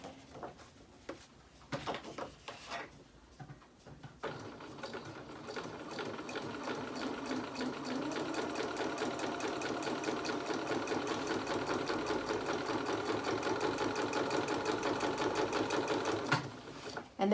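A sewing machine stitches through a layered paper scrapbook page, a few short start-stop bursts giving way to a long, fast, steady rattling run that ends abruptly.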